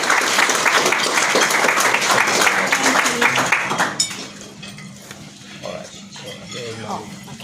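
Audience applause welcoming the founder of the Afghan International Film Festival Australia, dense steady clapping that fills the room for about four seconds and then stops, leaving quiet murmurs and small handling noises.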